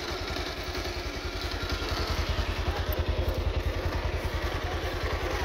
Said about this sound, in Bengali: একদম একদম স্মুথ ইঞ্জিন সাউন্ড, দুইটা গাড়িরই ইঞ্জিন সাউন্ড একদম স্মুথ।